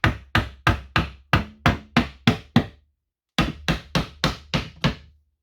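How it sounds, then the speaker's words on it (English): Steady hammer blows driving wood into place while fitting a TV into a fireplace, nine evenly spaced knocks, a short pause, then six more, sharp and close. "we will hammer her into place"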